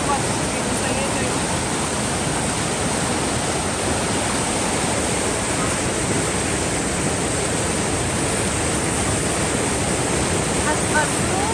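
A strong river current rushes through the Kaskasu area of the Sairam-Ugam nature reserve, a loud, unbroken roar of churning water that holds steady throughout.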